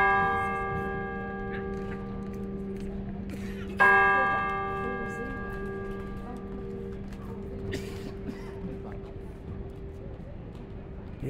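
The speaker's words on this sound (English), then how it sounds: "They had a motor that hits that pendulum on the bell, and it was loud." A church bell in Old Montreal, struck by a motor-driven hammer, rings with a loud, sustained tone; a fresh strike near four seconds renews the sound, which then slowly fades under light background noise.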